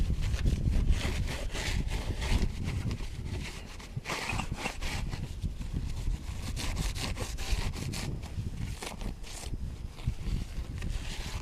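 Close, steady rubbing and scrubbing on a vehicle's window mounting surface during a RotoPax mount install, cleaning it before silicone goes on; a dense, continuous scratchy friction with brief pauses and varying strokes, no talking.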